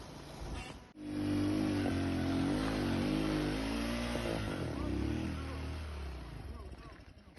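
A motorcycle carrying riders up a mountain hiking trail on Mount Sindoro, its engine revving steadily and loudly after an abrupt start, pitch wavering with the throttle on the climb, with voices talking over it.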